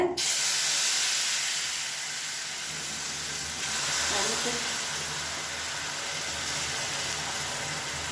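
A steady rushing hiss of boiling water poured into a pan of roasted semolina, continuous and fairly loud throughout, with a faint bubbling sizzle underneath.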